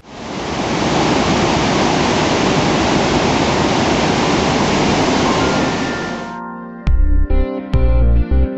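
The Mandakini, a rushing mountain river near Gaurikund on the route to Kedarnath, roars loudly and continuously for several seconds, then cuts off abruptly into a few brief tonal notes.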